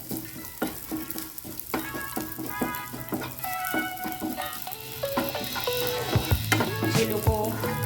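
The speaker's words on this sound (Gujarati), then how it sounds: "ગુંદ જે છે એ થોડો થોડો કરતાં એડ કરવાનો છે, જેથી કરીને એ પ્રોપર ફૂલી શકે અને ચોંટી ના જાય એકબીજા સાથે" Edible gum (gond), added a little at a time, fries and puffs in hot ghee with a dense, crackling sizzle and irregular pops that grow busier and louder.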